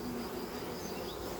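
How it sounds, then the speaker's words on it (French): A swarm of honeybees from a beehive buzzes in a steady, dense, close drone with no break, and no one speaks. "Les abeilles qui pondent vont rester dans l'herbe et les autres, celles qui peuvent se sauver, vont venir ici."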